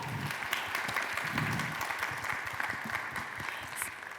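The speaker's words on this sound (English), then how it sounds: "let's give a round of applause" Applause from a tech conference audience during a startup pitch finale, a steady, moderately distant wash of many hands clapping throughout, with faint crowd murmur underneath.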